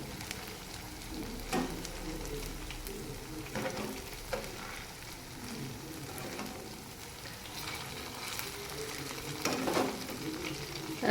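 Cabbage kababs fry in a pan, a steady broadband sizzle with occasional stirring or scraping clicks, continuous throughout at moderate loudness with no voices.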